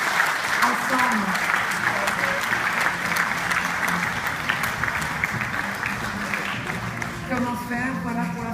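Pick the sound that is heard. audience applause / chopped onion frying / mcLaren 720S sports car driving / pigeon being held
audience applause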